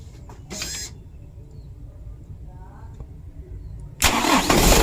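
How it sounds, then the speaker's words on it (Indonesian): A used car engine is cranked and fires up near the end, roaring loud after a quiet stretch with a short starter burst earlier, while people talk faintly in the background. "Untuk mesinnya sudah hidup"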